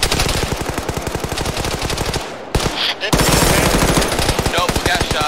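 Rapid, loud automatic gunfire in Arma 3 rattles in steady bursts, pausing briefly mid-stretch before another intense sustained volley.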